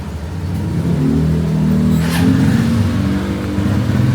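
A Yamaha Aerox V3 scooter engine idles steadily and close by, a low motor drone running throughout with a brief rise partway through.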